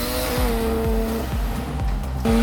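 A Mazda RX-3 driving hard, powered by a 13B bridgeport rotary from a Series 6 RX-7 with a G42 turbo, 550 rear-wheel horsepower and a C4 automatic. Its loud, close, buzzing engine drone pulses with repeated dips and rises in pitch.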